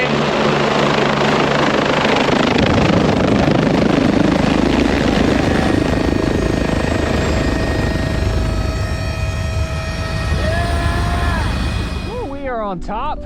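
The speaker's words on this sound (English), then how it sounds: "it is crazy how close this helicopter lands. It goes between these two poles and us." A helicopter on a heli-skiing trip lands very close by on a mountaintop, its loud, steady rotor roar and engine whine filling the air before winding down near the end, with voices over it.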